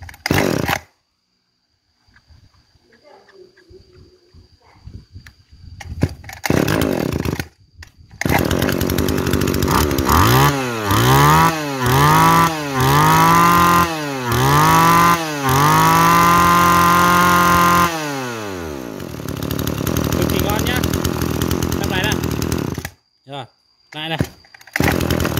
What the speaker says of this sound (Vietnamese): em lắp vào để thử máy nhá